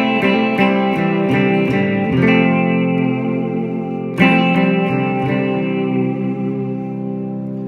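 Fender Jaguar electric guitar with pickups wired in parallel, picking ringing chords and single notes through effects with a chorus-like shimmer and reverb, a sharp restrike midway, close and sustained.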